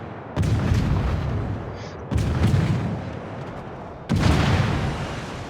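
Heavy naval cannon salvos in a warship battle video game, three loud booming blasts about two seconds apart, each rolling into a long rumbling decay, close and powerful with no voices.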